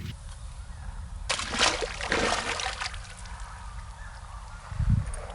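Released fish splashing back into the water: a soft slosh and a brief splashy burst near the middle, then quiet lapping and a low thump near the end, close by and fairly faint against outdoor ambience.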